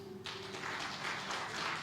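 A church congregation breaks into applause, a broad rush of clapping that swells in after a brief tonal hum and continues steadily, moderately loud.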